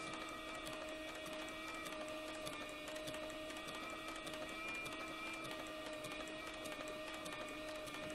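A sewing machine stitches a leather guitar strap at about 5.5 stitches per inch, producing a quiet, steady mechanical hum with a fine rapid ticking that runs continuously without pause.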